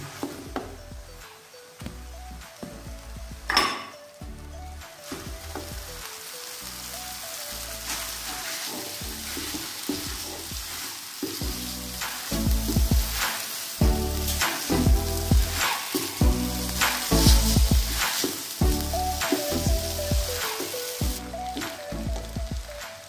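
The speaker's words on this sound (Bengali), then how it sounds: "এখন আমি এর মধ্যে অ্যাড করব নুডলসগুলো, এই স্টিক নুডলসগুলো।" Stick noodles with green chilies stir-fried in a hot pan, sizzling steadily while a utensil tosses and scrapes them in a brisk, repeating rhythm that grows louder toward the end, with no talking.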